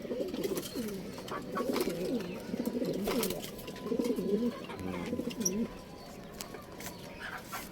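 Racing pigeons coo softly and repeatedly nearby, overlapping low throaty calls in a steady run, with faint background noise.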